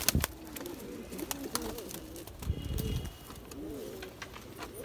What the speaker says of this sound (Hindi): ये भी एक चंदा खानियों से बना हुआ जी गजरा कबूतर है